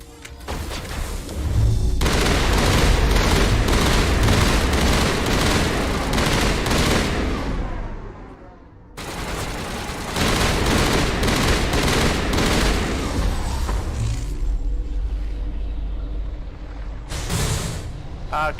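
A Mass Effect Legendary Edition firefight brings loud, dense bursts of rapid automatic gunfire with heavy thumps and booms. The shooting runs in two long stretches split by a brief lull, with voices faintly mixed in.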